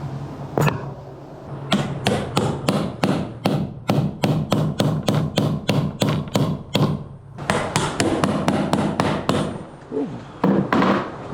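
Rapid series of sharp metallic hammer strikes on a chisel while removing sailboat hatches, evenly paced in bursts with brief pauses, close and loud with no talking.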